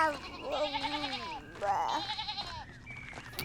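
A horned cow in the Pentiment video game lets out a few close, drawn-out lowing calls, with a voice-like murmur running alongside them.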